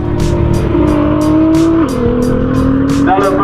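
A tuned matte grey Nissan R35 GTR with an NXGEN Alpha 6 conversion drives hard at a private event, its tires squealing continuously in a loud, sustained screech with shifting pitch over the engine drone.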